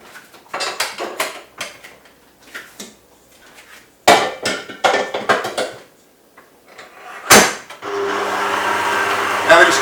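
Butter and caster sugar are creamed for shortbread, giving bursts of scraping and clattering against a bowl, close and uneven, with a motorised whirr near the end and no talking.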